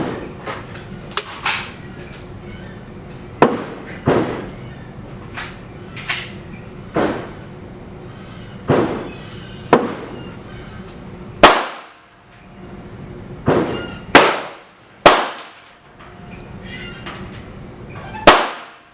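Pistol shots at an outdoor range, 9.5 grains of Herco loaded in soft-lead hollow point rounds fired at 25 yards; about a dozen sharp, loud cracks spaced irregularly, each followed by a brief decay.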